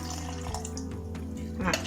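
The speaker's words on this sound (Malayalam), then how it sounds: "ഈ വെള്ളം തന്നെ നമുക്ക് ഒഴിച്ചു കൊടുക്കണം" Water is poured into ground oats for idli batter, a steady splashing trickle ending in a brighter splash, under a low hum.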